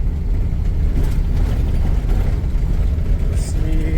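A Mercedes Sprinter van with upgraded struts and shocks on regular tire pressure rolls down a steep, bumpy slope, a loud, continuous engine and road rumble with jolting thumps throughout.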